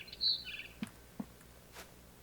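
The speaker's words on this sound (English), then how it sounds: "Then I heard chirping outside my window." A few soft, high barn swallow chirps in a video game near the start, followed by a couple of faint clicks against a quiet background.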